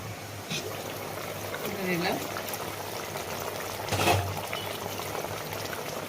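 Hilsa curry with slit green chillies and brinjal boils in a pot, a steady close bubbling hiss with a louder burst of bubbling near the end; a low hum runs underneath.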